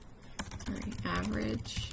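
Computer keyboard keys clatter in quick bursts as a formula is typed into an Excel spreadsheet, heard under continuous close talking.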